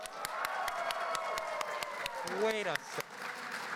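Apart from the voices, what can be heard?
audience applause for Bob at a panel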